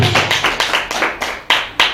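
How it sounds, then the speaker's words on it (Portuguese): Church congregation clapping together during an evening worship service, a dense run of rhythmic handclaps at steady pace, loud and close, with a couple of sharper accented claps near the end. "dá uma linda salva de palmas para Jesus aí nesta noite"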